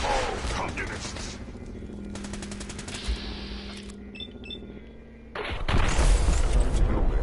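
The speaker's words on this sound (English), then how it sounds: "it felt kind of like a standard shootout" A Fallout 4 shootout, dense gunfire and explosive booms throughout, easing into mechanical whirs and short electronic tones before a heavy roar of fire returns.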